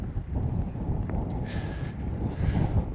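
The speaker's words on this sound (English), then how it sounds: "The wind is gusting up to 50." Strong wind gusting up to 50 buffets the microphone at a harbour with boats in Port de Grave, Newfoundland, a constant loud low rumble with swelling gusts.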